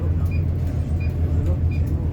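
A bus engine idling in heavy traffic, a steady low rumble with a faint periodic high chime, close and continuous with no talk.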